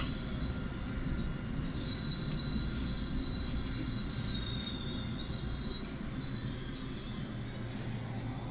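An LRT 2 light rail train pulls into Katipunan Station with a continuous rumble of wheels on track and thin, high squeals of wheels braking along the rails, steady and fairly close, with no one speaking.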